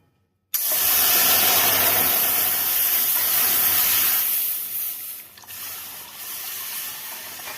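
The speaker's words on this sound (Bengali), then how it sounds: "দুধটা গরম হচ্ছে" Milk being heated in a hot wok for homemade rasgulla gives a loud, close steady hiss starting abruptly, easing after a few seconds into a softer continuous sizzle.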